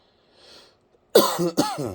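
A single sharp cough, close and loud, with a faint breathy sound just before it, then silence.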